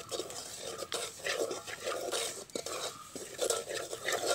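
Beef with spices is stirred in a hot pan, giving steady scraping and scuffing strokes of a spoon against the metal with a faint sizzle, close and continuous with no talk.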